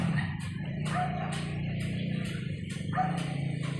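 A dog barks in a steady series of sharp, close barks, about seven of them spaced roughly half a second apart, over a low, constant background rumble.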